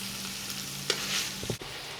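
Rabideau sausage browns in a pot with a steady low sizzle, broken by a few brief scrapes and knocks from stirring.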